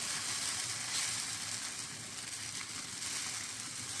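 Green moong dal batter sizzles steadily on a hot oiled pan, a loud, even, hissing fry that holds unbroken throughout with no voices over it.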